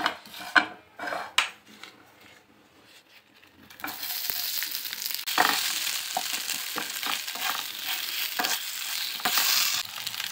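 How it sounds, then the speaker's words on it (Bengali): Suji poha bites fry in a pan: a few soft clanks and scrapes at first, then a steady loud sizzle of frying oil starts and continues, with occasional stirring scrapes over it. "অল্প একটু ভাজবো, বেশি ভাজার প্রয়োজন হবে না।"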